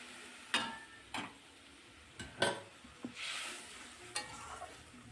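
Potatoes stir-fried with spices in a pan while cooking a Bengali katla fish curry, quiet sizzling broken by several sharp spoon-and-pan scrapes and clacks at irregular intervals, with no talk.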